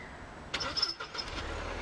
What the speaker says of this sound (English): We'll just start her up too so you can hear it running.